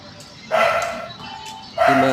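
A newborn puppy gives two short, high yips a little over a second apart, close and fairly loud against a quiet background.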